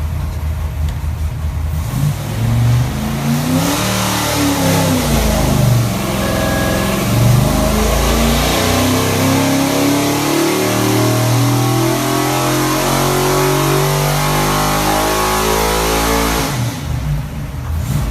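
A 408 stroker Ford V8 with AFR 205 CNC cylinder heads runs on an engine dyno, a loud, close, sustained roar whose pitch sweeps up through a long rising pull before cutting off near the end.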